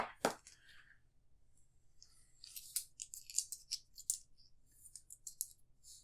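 Small game keys from an Arkham Horror card game shuffled by hand on a tabletop, giving a quiet run of light clicks and rattling taps, with a sharper clack near the start.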